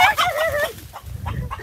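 A chicken in a Baguio bean garden clucks and crows loudly and close at the start, followed by rustling and lower scuffling noises.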